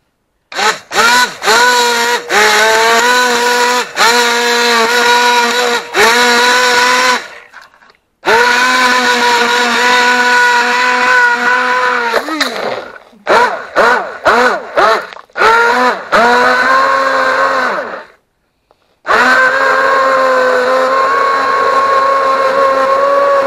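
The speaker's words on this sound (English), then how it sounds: "And then I just take my immersion blender." An immersion blender whirs through tomato sauce with tomato paste, loud and close, in repeated bursts broken by brief pauses and stutters as it is switched on and off.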